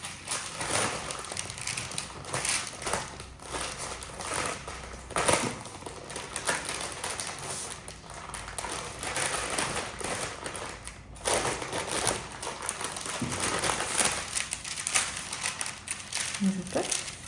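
Baking paper crinkles and rustles in busy, irregular bursts as a sponge cake is rolled up in it, close and continuous throughout.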